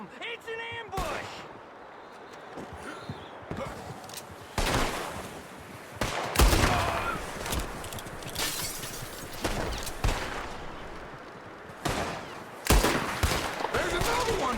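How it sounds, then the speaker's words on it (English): Rapid bursts of gunfire and heavy shots from a Red Dead Redemption II shootout ambush in a snowstorm, loud and chaotic, with crackling volleys and booms, and shouted voices between the shots. "There's another one shooting from the window."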